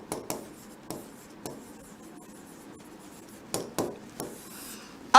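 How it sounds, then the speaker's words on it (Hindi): Chalk or a marker taps and scratches on a classroom board while a word is written, giving scattered short knocks with soft scraping between them, fairly close, and no one speaking. "इसलिए चेंज की जगह मैं वर्ड लिख देता हूं डिफरेंट होने वाली है"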